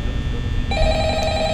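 A telephone ringing in the horror game Five Nights at Freddy's: a steady electronic ring tone begins partway through and holds over a dark, rumbling room ambience.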